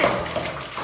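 Cold water splashes and gushes steadily from a bucket for a bath, a brief, close, continuous pour with no talk.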